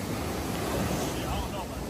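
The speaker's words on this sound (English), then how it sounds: "look at the waves a little" Ocean waves roll in at Shark Bay beach in Hawaii, a dense continuous wash of surf mixed with wind buffeting the microphone, loud and close with no clear breaks.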